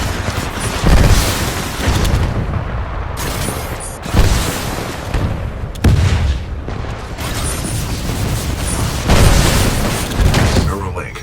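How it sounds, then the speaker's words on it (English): Shoulder-mounted rocket pod on a titan firing in Titanfall 2, loud repeated booming launches and blasts in dense bursts, with a voice speaking over the barrage. "This shoulder-mounted rocket pod will lock onto multiple enemy targets."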